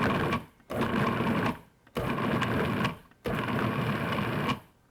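A food processor pulses chilled butter pieces into flour in three long bursts of loud whirring, each followed by a short silence, close and clear with no talking.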